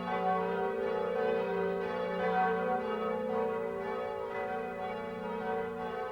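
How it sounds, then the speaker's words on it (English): Church bells of Notre Dame ring in an animated film, a sustained, dense wash of overlapping tones that holds steadily throughout with no voices. "the bells are ringing in your honor today"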